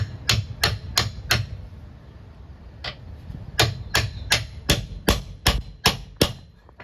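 A hammer tapping a part into place next to a grease zerk fitting, with a series of sharp metallic strikes, four quick ones, a pause, then a steady run of blows, close and loud.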